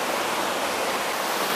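Narutaki waterfall on a river with rocks carved with lettering, a steady, dense rush of falling water filling the scene without a break, loud and close, with no talk over it.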